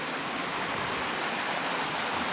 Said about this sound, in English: So we're down just above the river